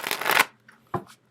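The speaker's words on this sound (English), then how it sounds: "You don't want to sit here listening to me shuffle." Tarot cards shuffled by hand during a reading: a dense, papery riffling burst lasting under half a second, then a couple of short, softer card flicks after a pause, close up with nobody talking.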